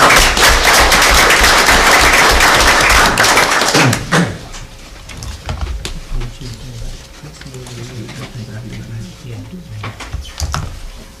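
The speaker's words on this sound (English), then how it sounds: "So let's give them a round of applause." Audience applause fills a school board meeting, a dense wash of clapping for about four seconds before it cuts off and a voice begins talking over a quiet room.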